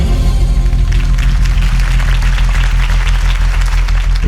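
A game crowd at a Harvey Dent campaign rally in the Batman Telltale series breaks into sustained, dense applause, steady and loud throughout with no one speaking.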